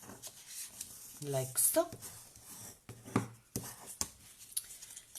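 Paper being folded and then burnished for a treat pouch, soft rubbing and creasing sounds with a few light taps, close and quiet, under someone talking.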